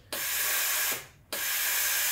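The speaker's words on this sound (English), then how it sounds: "It'll purge steam 5 times" A Breville Oracle Touch BES990 espresso machine's steam wand purges steam in two loud, sharp hissing bursts separated by a brief pause, close and without talk.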